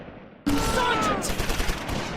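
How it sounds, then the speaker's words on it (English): Gunfire and battle noise from the Close Combat 4 war game, Battle of the Bulge at Wiltz, with a medium machine gun firing on infantry; a loud, sustained din of shots bursts in suddenly and continues to the end. "the medium machine gun opens up on infantry in the chateau grounds"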